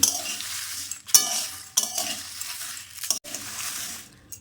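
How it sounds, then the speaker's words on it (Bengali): Cumin and mace roasting in a pan are stirred slowly, giving a soft hiss with a few scraping sweeps of the spoon against the pan, close up and with no speech. "জিরে জৈত্রী দিয়ে দিলাম দিয়ে আস্তে আস্তে নেড়ে নেব"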